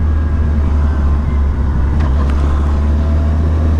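2007 Yamaha FJR1300 motorcycle cruising in third gear, a steady low engine drone with heavy wind rush, loud and constant from the rider's position, no speech.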